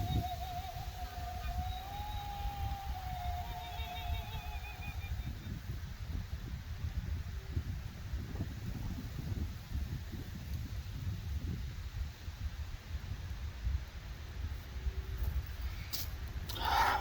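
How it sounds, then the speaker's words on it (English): Steady outdoor wind blows through the whole stretch, a low broadband rush with gusty swells, fairly faint and constant, with a few brief rustles and knocks near the end. "Pretty windy."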